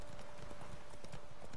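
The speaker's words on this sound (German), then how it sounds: "Ich hoffe, unser Pferd Klötze hält das Tempo durch." Horse hooves galloping in the game The Witcher 3, a quick, steady clip-clop rhythm of hoofbeats at moderate distance over a constant background hum.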